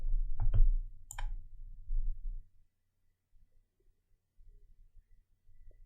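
A computer mouse clicks a few times in quick succession while working in CorelDRAW, crisp and close, followed by near silence.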